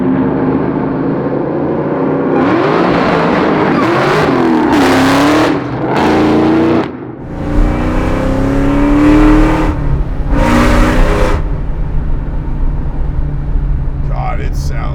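A Whipple-supercharged 2003 SVT Cobra Mustang rated at 750 horsepower revs loudly up close, with repeated rising blips and supercharger whine over a rumbling idle before settling to a steady roar.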